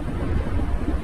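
A heavy, continuous low rumble of thunder from a thunderstorm, dense and loud, with a wash of rain-like noise over it and no pauses.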